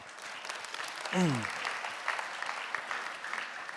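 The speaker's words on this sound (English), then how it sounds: "Give him a round of applause" Conference audience applause in Dushanbe, a fairly faint, steady patter of many hands clapping, briefly interrupted by a short spoken voice near the start of the applause.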